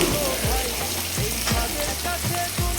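Bata fish frying in hot oil with chillies, a dense crackling sizzle punctuated by repeated low thuds and scrapes of a utensil at an uneven rhythm, close and loud with no speech.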